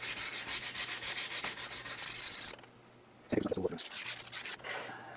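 The carriage slide of a Fay & Scott lathe is run along the ways, making rapid, rhythmic rubbing scrapes. There is a short quiet gap, then another burst of scraping, all up close.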